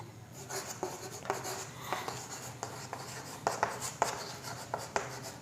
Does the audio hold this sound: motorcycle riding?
no